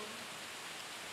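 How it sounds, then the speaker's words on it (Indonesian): Rain falls as a steady, faint, even hiss with no distinct drops standing out, alone for about a second. "Semoga Allah menjadikan hujan ini hujan yang penuh dengan manfaat."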